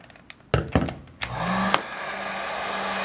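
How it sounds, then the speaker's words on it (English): Heat gun warming an aluminum sliding glass door frame: a few sharp knocks and clicks, then the blower switches on into a steady, fairly close whooshing drone that continues to the end. "That's just why I'm using the heat gun."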